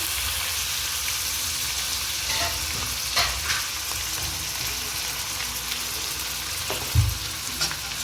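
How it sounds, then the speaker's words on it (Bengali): Onion paste and garlic fry in a pan for an egg dish with a dense, continuous sizzle close up, and occasional stirring scrapes and a dull clunk of the utensil. "একটু লালচে করে ভেজে নেব"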